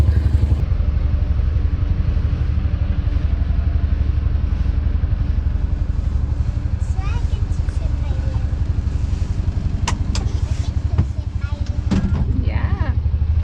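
Low, steady engine rumble of a tractor idling nearby on a ranch, with occasional clanks and clatter over it and voices talking faintly.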